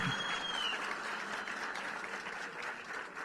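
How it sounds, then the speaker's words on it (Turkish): Applause at a local AK Parti district office gathering in Zeytinburnu, a faint, continuous patter of many hands clapping at a distance. "Hepimiz alkışlarımız."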